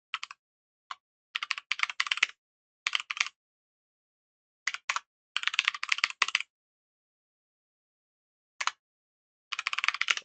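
Quick, clicky typing of SystemVerilog code on a computer keyboard, heard in short bursts of keystrokes separated by silent pauses, close and clear with no talking.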